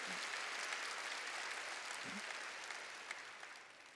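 Applause from a church congregation during a Sunday sermon, a steady wash of clapping at moderate level that slowly fades toward the end, with no voices over it.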